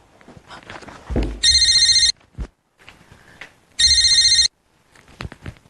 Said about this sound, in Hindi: अरे फोन बज रहा है तुम्हारा